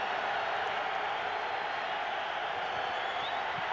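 Broad, steady roar of a stadium crowd at a 2003 NFL game between the Bengals and Chargers in San Diego, a sustained wash of cheering that holds at an even level throughout.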